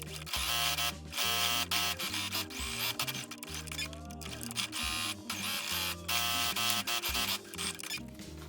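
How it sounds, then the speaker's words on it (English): A sewing machine stitches tote bag lining pieces together in repeated close mechanical bursts, a buzzing motor running in runs with brief pauses between them. "place them right sides together, and sew around, leaving a 10 cm opening at the center bottom"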